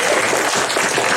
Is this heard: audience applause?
yes